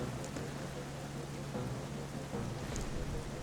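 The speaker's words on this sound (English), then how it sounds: "He created the rain." Steady rain falling in Zelda: Twilight Princess HD, a soft continuous hiss with faint patter, even and unbroken throughout.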